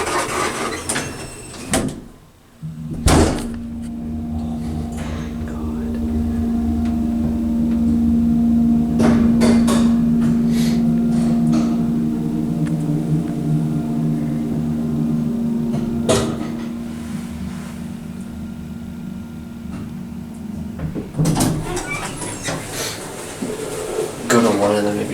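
An original Atlas hydraulic swing-type elevator door at an apartment building operates with a loud knock and clatter, followed by a steady hydraulic hum for about twenty seconds and another bang near the end, while people talk.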